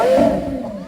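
A car engine revs briefly at a Scottsdale collector car auction, a loud close rising-then-falling roar that quickly settles into a steady hum with no voices over it.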